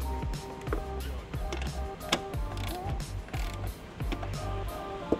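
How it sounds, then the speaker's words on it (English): A hand ratchet clicks in quick, sharp bursts while snugging trailer wiring bolts on a 2015 Chevy Equinox, with a few metallic clanks of tools and hardware in between. "We'll take our ratchet, just hit them once, to make sure that they're good and snug."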